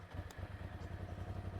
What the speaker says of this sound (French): vous allez venir démarrer le moteur